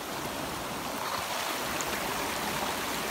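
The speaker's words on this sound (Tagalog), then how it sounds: "Malakas yung sapa." A fast-flowing creek rushes in a dense, steady roar of water, continuous and close with no pauses.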